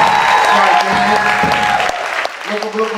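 Loud audience applause at a memorial concert in a community theater, a dense wash of clapping with some cheering that thins out toward the end.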